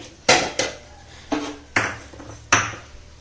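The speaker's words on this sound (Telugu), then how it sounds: "గిన్నెలు తోమేసుకుంటా" Steel pots and dishes being washed in a kitchen produce about five or six distinct metallic clanks and knocks at an uneven pace, close and fairly loud, each ringing out briefly.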